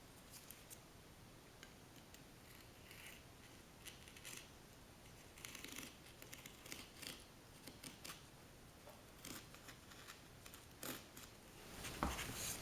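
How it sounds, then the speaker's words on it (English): A knife trims excess fiberglass from a composite Nike fin, making faint, scattered scraping and snipping cuts against a quiet, hissy background. "You just run the knife along the edge"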